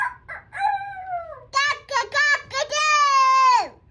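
A child imitates a rooster crowing, calling out loudly with a long rising and falling cock-a-doodle-doo. A few shorter vocal bursts lead into one sustained, strained final note.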